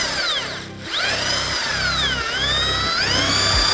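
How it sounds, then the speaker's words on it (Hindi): A power drill fitted with a brush in place of its bit spins inside a bucket of potatoes and water, a steady close whirring drone with brief pauses and restarts, no talking. "ड्रिल में जो बिट है उसकी जगह ब्रश घूम रही है"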